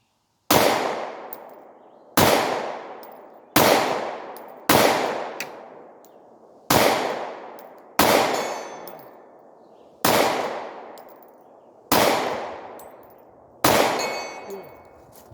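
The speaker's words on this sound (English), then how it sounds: "you're not going to see the hits, but you can hear the pings" Nine Glock 43 pistol shots, each a sharp report trailed by a ringing ping off a two-foot steel target at 65 yards, spaced about one to two seconds apart with no talk.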